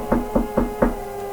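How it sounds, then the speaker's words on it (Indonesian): Four evenly spaced knocks on a door, close and fairly loud, with a dull hollow thud and a brief ringing tail between strikes. "Suara ketukan pintu kembali terdengar."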